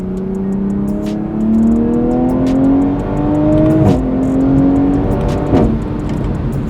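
A stock 2020 Toyota Supra's engine rising steadily in pitch under hard acceleration, heard close from inside, with the tone dropping at each gear shift and sharp crackling exhaust pops at the shifts.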